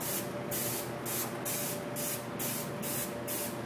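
Airbrush spraying paint onto a sandblasted sign, a steady close hiss pulsing in regular bursts about every half second, with a constant compressor hum underneath and no talking.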